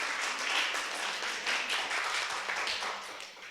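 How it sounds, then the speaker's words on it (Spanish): Steady applause from an audience at an academic panel on International Women's Day, a dense, even patter of many hands clapping at moderate distance, fairly quiet, with no voices over it. "Un aplauso, por favor."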